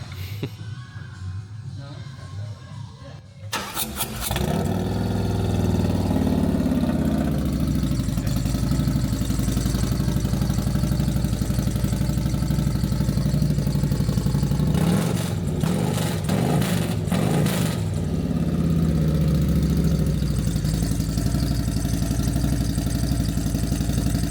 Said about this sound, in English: we did this exhaust downstairs. This is, of course, this is the CD of it with the 121 in it. Yeah. I'm gonna start this up for you